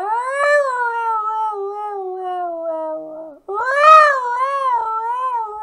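A cat gives two long, loud, drawn-out meows, the first sliding downward and the second rising and wavering after a brief pause, close up with no talking.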